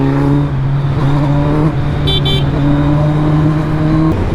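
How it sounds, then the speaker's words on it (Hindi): City road traffic in Mumbai heard from a Kawasaki Z900 motorcycle, a loud steady engine drone close by with a brief honk-like tone partway through. "दुनिया भर का ट्रैफिक है भैया।"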